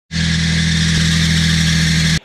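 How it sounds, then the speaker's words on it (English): A Nissan 350Z engine with a squealing fault, a loud, steady droning run with a sharp high squeal on top, starting abruptly and cutting off after about two seconds. "I now have a squealing 350Z."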